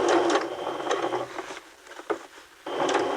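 A sewing machine stitching an understitch runs in quick bursts, a close mechanical whir and patter that pauses briefly in the middle and then starts up again.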